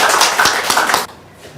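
Seminar audience claps briefly to welcome a pastor to the lecture, a short burst of dense close clapping that stops abruptly after about a second, leaving quiet room tone.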